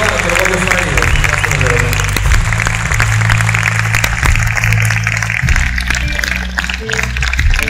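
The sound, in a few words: audience applause at concert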